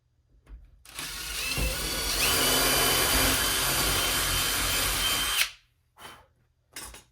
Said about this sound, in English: So I'll go ahead and pre-drill these though